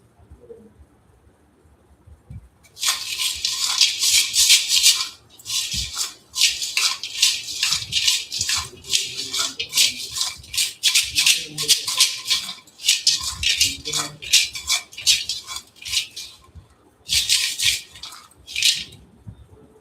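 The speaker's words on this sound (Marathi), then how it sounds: "सर्व कॉइन मिक्स झालेले आहेत" Coins tumbling and rattling together in a container, mixed for a lottery draw, with sustained bright clattering bursts broken by brief pauses, loud and close.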